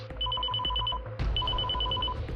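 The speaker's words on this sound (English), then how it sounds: "The alert had come from Callista's phone." A phone alert rings in short repeated bursts, two rapid rising trills separated by a brief pause, fairly loud over a steady low hum with no one talking.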